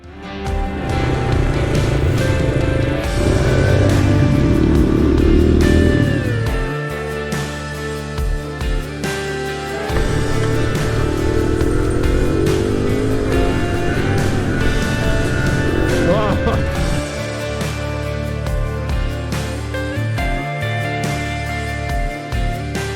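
Vintage motorcycles ride a rolling dirt two-track trail in the Black Hills, their engines droning steadily and loudly throughout with shifting revs and no talk.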